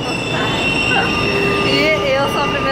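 A São Paulo metro train runs loud and close, with a constant rumble and high, wavering wheel squeals rising and falling throughout, and a voice faintly audible beneath the noise.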